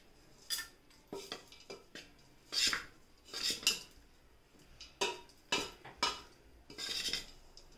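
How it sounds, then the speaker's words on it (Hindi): Sabudana is stirred with ground peanuts and salt, a spoon clinking and scraping against a metal bowl in irregular bursts, close and fairly quiet, with no talk. "सभी हमें इन्हें मिक्स कर देना है।"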